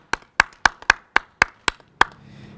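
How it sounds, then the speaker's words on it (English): A few people clapping for a police officer receiving a Life Saving Award, about eight sharp, evenly spaced claps close by, then a brief soft tail. "another round of applause for Officer White"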